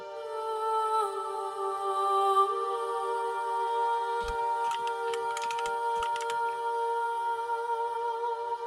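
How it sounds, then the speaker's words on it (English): Scattered clicks and taps from a cat stepping across a computer keyboard, a brief irregular cluster mid-clip over a steady tonal game soundtrack that plays throughout. "Trying to type her name in, but Josie is on top of my keyboard"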